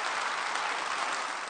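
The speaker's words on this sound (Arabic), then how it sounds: "تصفيق حار يلقاه المتحدثون هنا في بيرمنغهام من أنصار حزب المحافظين الحاكم" Warm, dense applause from Conservative Party supporters at the party conference in Birmingham, a steady, continuous roar of clapping from a large hall audience, loud and unbroken throughout.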